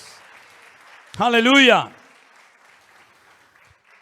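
A church congregation applauds during a worship service: brief rousing clapping with a loud cry of praise over it, then quiet talk from the preacher trailing on.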